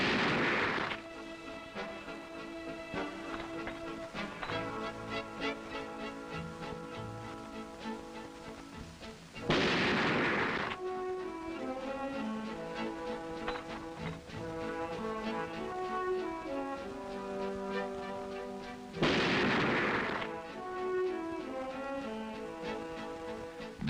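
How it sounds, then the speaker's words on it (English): A Remington Model 700 bolt-action rifle fires three loud, sharp shots at a 100-yard range, spaced roughly nine to ten seconds apart, over steady background music with no talking. "Each shooter will fire 3 shots at 100 yards, and Mike starts it off with a bolt-action Model 700."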